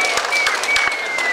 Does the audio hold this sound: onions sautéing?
no